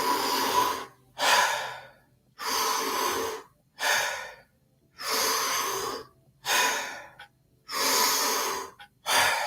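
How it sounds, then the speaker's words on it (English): Deep rhythmic breathing from a Wim Hof method session: seven strong, full inhales and exhales in a steady cycle, each roughly a second long with short pauses between, close and clear with no talking. "Keep breathing just like that. Nice deep breaths."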